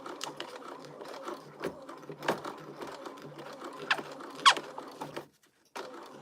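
Sewing machine stitching wax canvas for a crossbody bag, a close, steady mechanical whirring with rapid needle clatter and crackly fabric noise, stopping briefly near the end before resuming.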